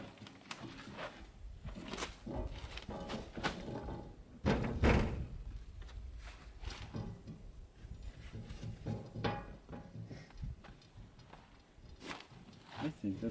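A hefty wooden door for a homemade greenhouse shed is handled and shifted into place, producing a series of close, irregular thumps, knocks and bumps with shuffling steps between them.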